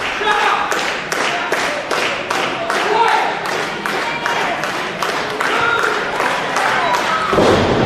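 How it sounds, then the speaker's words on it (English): At a pro wrestling event, a crowd claps in unison to rally behind a wrestler, a steady rhythmic beat of loud claps with cheering and voices underneath, close and continuous. "Crowd starting to rally behind Jimmy the Flying Hippie."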